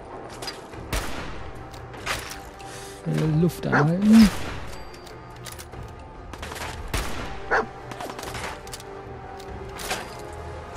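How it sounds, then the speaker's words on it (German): Scattered gunshots in Fallout 4 crack throughout amid game noise and a dog-like yelp burst in the middle, with someone speaking briefly. "Kommt von überall irgendwelche Schüsse."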